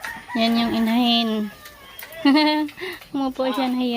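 A mother hen on a provincial farm gives several close, loud clucking calls in short bursts with brief pauses between them, with no one talking over her.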